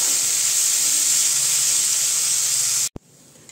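Gobindobhog rice and mung dal frying in a pan, a loud steady broadband hiss that continues almost three seconds and then cuts off abruptly, followed by quieter room noise.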